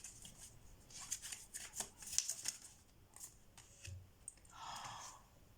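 Tarot cards are shuffled by hand in close, soft riffles and slides, a quiet flurry of papery flicks ending in a brief smoother swish.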